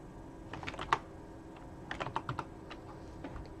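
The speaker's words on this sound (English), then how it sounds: "so now I can type this in" Command typed on a computer keyboard, close and quiet, two short bursts of key clicks with a pause between and a few stray taps after.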